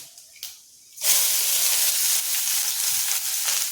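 Two dried red chillies drop into hot oil already holding lentils and mustard seeds, after a couple of soft knocks a loud steady hiss of frying bursts in and continues close up.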